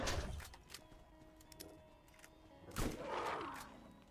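Shotgun blasts in the video game Borderlands: a booming shot opens, then a couple of sharp cracks and a heavy roaring blast near the end, over a low game hum.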